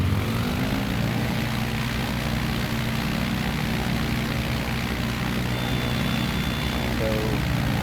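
A propeller plane in Microsoft Flight Simulator 2024 drones steadily through its takeoff, a loud continuous engine buzz with a constant low hum and no pauses.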